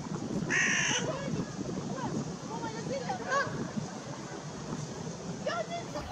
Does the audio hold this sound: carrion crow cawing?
yes